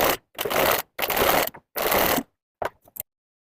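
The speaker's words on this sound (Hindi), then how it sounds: "बिल्कुल पाइपिंग के किनारे किनारे से सिलाई लगाना है।" A sewing machine stitches piping onto a princess-cut blouse in three close, loud runs of whirring, each under a second long, followed by a few brief stop-start bursts; no speech.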